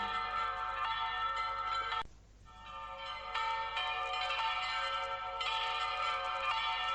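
Bells ring for Easter at a regional festival of Easter bell music, a dense, sustained peal of overlapping tones with a brief dip in the middle before the full ringing resumes, loud and close.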